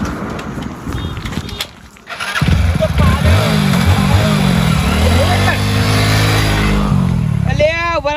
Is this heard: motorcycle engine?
yes